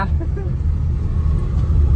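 Low, steady rumble of a car engine from inside the vehicle, with faint voices under the drone.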